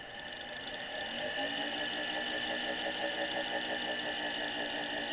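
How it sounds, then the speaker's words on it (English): An electric motor driven through a Solectria AMC/UMOC test box spins up smoothly, with a steady whine and layered harmonic hum that rises in the first second and then holds constant. "they start spinning the motor nice and smooth"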